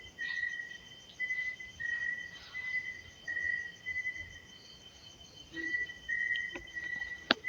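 A thin, steady whistle comes in repeated long tones at night in a large abandoned building, fairly faint, over an insect-like hiss.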